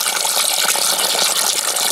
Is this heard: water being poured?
yes